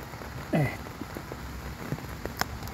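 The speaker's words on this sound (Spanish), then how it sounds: "Con tiempo lluvia, difícil." Rain falling in damp woodland during oyster mushroom picking, a steady soft patter with faint scattered drips and a few brief nearby handling sounds.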